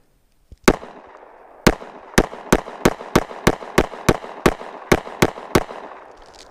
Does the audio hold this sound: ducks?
no